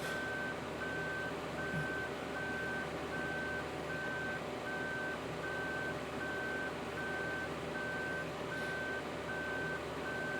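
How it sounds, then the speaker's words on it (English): A truck's reversing alarm in Farming Simulator beeps in a steady, evenly spaced series of identical tones over a constant engine drone, with no talking. "I've got to listen to this reversing beep now while it's synchronizing"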